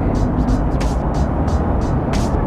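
Dense road traffic heard from a Honda RS150 motorcycle squeezing through a tight jam, a steady broad rumble of engines close by with someone talking over it.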